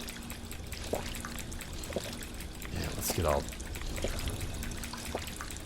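Drinking water in Fallout 4, a short pouring, gulping liquid sound in the middle with light trickles around it, while someone speaks briefly.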